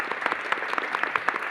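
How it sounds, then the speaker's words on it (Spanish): A brief burst of audience applause at an award presentation, many hands clapping steadily at moderate loudness for a second or two. "Un aplauso,"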